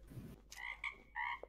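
Minecraft frog croaking on a modded server, a few short close croaks in quick succession, heard alone without talk.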